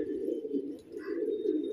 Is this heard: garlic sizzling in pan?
no